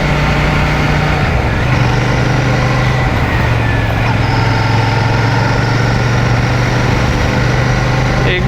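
Royal Enfield Shotgun 650 motorcycle with its 650 cc twin engine heard while riding on the road, a steady low drone with shifting engine pitch and constant wind rush, close and loud throughout.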